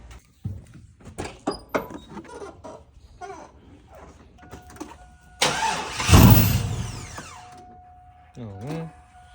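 A 2001 Chevrolet Silverado pickup engine cranks repeatedly without catching, a loud grinding burst near the middle that fades into quieter cranking, with people talking before and after.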